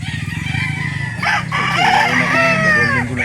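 A Boston Sweater rooster crows loudly and close at a rooster sale market in Calauan, Laguna, its drawn-out call rising and falling over a dense backdrop of clucking and other fowl.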